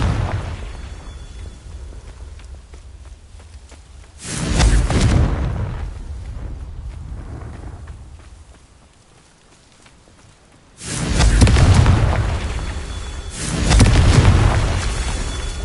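Blasting-spell explosions in a wizarding video game: loud booming bursts at about 4, 11 and 13 seconds, each trailing into a crackling rumble, with quieter ambient noise between.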